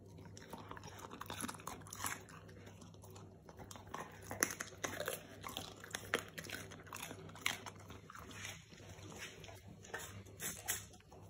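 An English Springer Spaniel crunching and chewing through a raw food meal, with steady irregular bites and crunches close by, occasional louder snaps of chewing and no talking.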